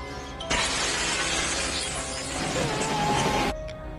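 Glass shatters onto a body in a scene from the film Ghost, a loud sustained crash of breaking, tinkling shards lasting about three seconds before cutting off.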